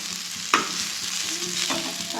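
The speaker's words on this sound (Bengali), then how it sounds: "এই যে এখানে আলু ভাজাটা গরম করছি" Fried potatoes being reheated in a pan give off a steady soft sizzle and frying hiss, with a sharp tap of utensil on the pan near the start and light stirring scrapes throughout.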